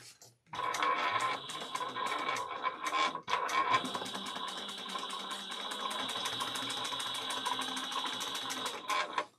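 A sewing machine back-stitches a travel bag at a 4 stitch length, a fast steady whirring rattle close by with a brief pause near the start before it runs on evenly.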